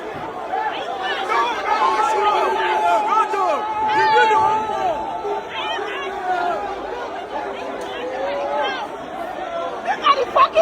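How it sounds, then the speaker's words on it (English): Crowd of protesters at Abuja airport in Nigeria, a steady babble of many overlapping voices close by, with shouts and chatter layered thickly and continuously throughout. "Look at the fucking crowd."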